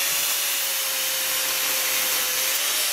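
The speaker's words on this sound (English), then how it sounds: "I'm going to have to use the cut-off wheel on the little angle grinder" A small angle grinder with a cut-off wheel cuts a keyway into a steel shaft for a biochar crusher build. It makes a steady, loud, high-pitched grinding whine with a faint constant tone, heard alone without a break.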